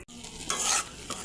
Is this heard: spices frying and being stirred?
yes